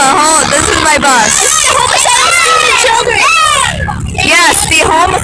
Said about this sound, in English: Yes, the homicidal screaming children, as Rain Cloud put it.